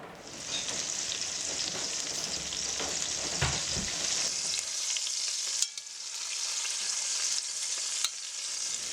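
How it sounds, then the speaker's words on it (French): Meatballs browning in a butter base inside a casserole pot give a steady, close crackling sizzle that carries on throughout, punctuated by a few scraping stirs. "Boulettes que nous allons faire rissoler dans une cocotte dans un fond de beurre"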